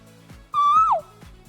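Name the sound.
voice imitating an owl-like uwu bird call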